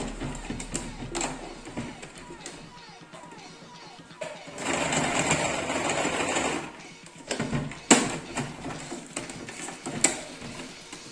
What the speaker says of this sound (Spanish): Vamos a darle un pequeño pespuntito, ¿vale?